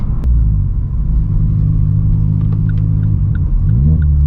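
Vauxhall Corsa engine heard from inside while driving, a loud steady low rumble with a slight rise in pitch near the end as it accelerates.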